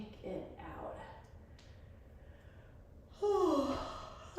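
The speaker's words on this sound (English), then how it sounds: "I'm sorry I'm yawning" A person yawns after an arm workout: a long, drawn-out breathy yawn with a rising and falling voiced tone near the end, close and fairly loud after quieter breathing.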